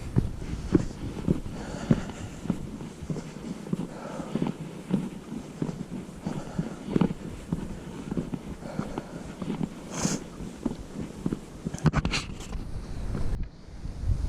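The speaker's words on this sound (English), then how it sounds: "Wind's starting to pick up a little bit, but it feels great right now." Wind gusting on the Alum Cave mountain trail, steady rough buffeting rumble across the microphone, fairly loud and continuous, with occasional footstep-like knocks and no talking.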